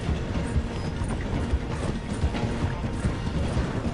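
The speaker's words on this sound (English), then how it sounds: "The train is slowing down to go through the station." Train rolling and slowing through a station in Red Dead Redemption 2, a steady loud mechanical rumble with clanking and rattling wagon sounds throughout, no voices.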